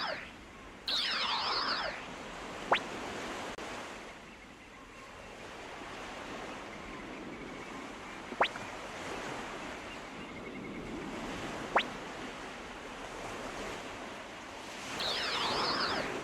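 Soft, continuous surf washes against the shore in the video game Suikoden I, a gentle rolling hiss broken by a few sharp chimes and shimmering magical effects near the start and end.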